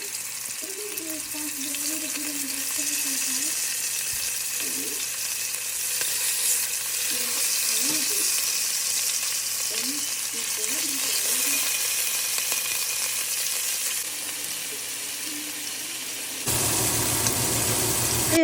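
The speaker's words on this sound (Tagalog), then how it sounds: "And then ibe-brown natin siya sa kaldero." Seasoned beef browns in a cooking pot, giving a steady close sizzle and fry throughout, with occasional stirring scrapes and clatter, and a brief louder burst of sizzling near the end.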